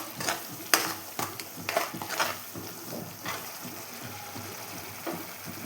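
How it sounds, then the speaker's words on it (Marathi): Chole masala roasting in oil over low gas while being stirred, giving a steady close sizzle broken by scraping clicks of the spoon against the pan, with no talk. "गॅस कमी करून थोडंसं तेल सुटेपर्यंत हे भाजून घ्यायचं आहे।"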